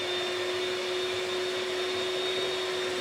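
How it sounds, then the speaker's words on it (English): An electric whisk beats lemon meringue mixture in a home kitchen for a lemon meringue pie, giving a steady, loud, continuous motor whine with a constant pitch and no breaks or talking. "Now you've got to whisk it again now."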